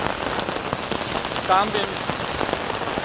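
Steady rain falls outdoors in a monsoon downpour near a flooded bridge, a continuous hiss of drops on surfaces with a brief brighter patter midway; no voices.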